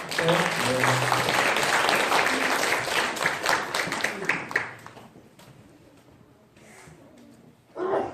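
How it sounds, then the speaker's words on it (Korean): A church congregation applauds to welcome children from a children's center, loud clapping for about five seconds that fades into quieter murmuring and a voice near the end. "우리 좀 박수로 환영해 주세요"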